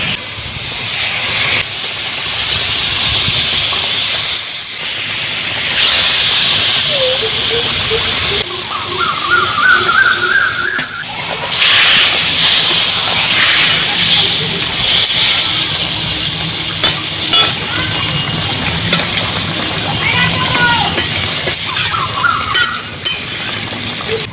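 A pot of koi fish curry broth with torn chilies boiling on a cooking fire, giving a steady, close hiss of bubbling and steam, with occasional light clinks of utensils.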